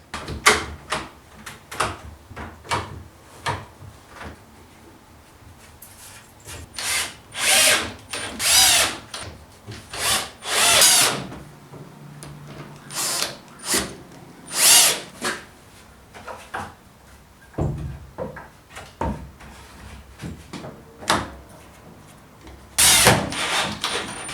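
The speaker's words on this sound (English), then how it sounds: "I'm going to fix it to the top just like I fixed the top to the rest of the bench using countersunk screws from the top" A power drill drives countersunk screws into a wooden workbench top, with repeated whirring bursts of varying length separated by short pauses and clunks, loud and close throughout.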